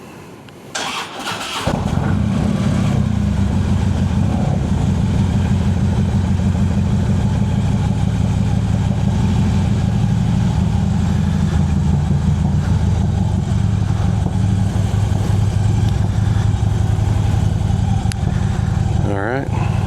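A motorcycle engine starts and settles into a steady, loud, close idle that runs without a break, the bike waking for its first ride after being stored over winter.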